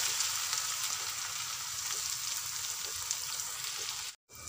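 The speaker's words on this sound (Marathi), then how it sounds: "आता त्यामध्ये 1/2 चमचा मोहरी, 1/2 चमचा जिरं आणि एकच वाटण यामध्ये टाकून घ्यायचं आहे" Mustard seeds, cumin and a ground spice paste frying in a generous amount of hot oil in a kadhai, a steady dense sizzle with faint crackles throughout, cut by a brief silent dropout near the end.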